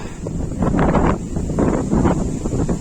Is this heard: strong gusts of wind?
yes